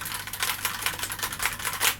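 Rapid, irregular clicking of keys being typed on an HP Elite Slice G2 desktop keyboard, continuous and fairly close, with no voices.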